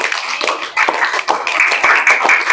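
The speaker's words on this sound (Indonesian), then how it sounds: "Tepuk tangan untuk kita semua." A classroom of students applauds together at the end of a lesson, a dense run of overlapping hand claps that swells and fades in uneven bursts, fairly close and steady.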